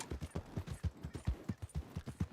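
Horse hooves clop at a steady, rapid gallop rhythm in Red Dead Online. The hoofbeats are evenly spaced, close and fairly loud, with no talk over them.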